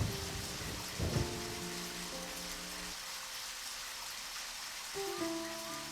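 Steady rain with a low rumble of thunder in the video game Deadly Premonition, a continuous wash that runs under soft game music.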